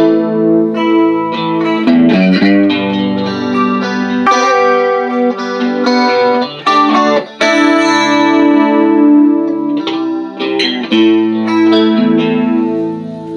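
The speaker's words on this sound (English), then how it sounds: "There's nothing like the chorus of a Roland Jazz Chorus." Guitar played through a Roland Jazz Chorus amplifier with its chorus effect on, a shimmering, wavering tone of sustained chords and notes, loud and steady throughout with no talking.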